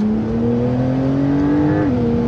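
A 2021 Porsche 911 Turbo S on a track holds a loud, close, steady engine drone with a smooth rising pitch, then a quick drop as it shifts, heard alone without talk.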